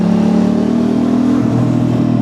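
An Aprilia RS660 sport motorcycle engine revs, droning steadily, its pitch dipping briefly partway through and then holding, loud and close with no voices.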